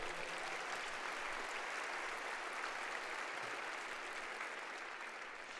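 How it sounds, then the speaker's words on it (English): An awards-ceremony audience gives a continuous round of applause, a dense, even clatter of many hands that holds steady and sounds somewhat distant. "How about a round of applause for all the videos?"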